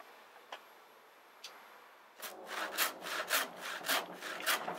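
A hand saw cuts across the back of an elk skull, its steady back-and-forth strokes rasping rhythmically after a couple of faint taps, fairly close with no speech.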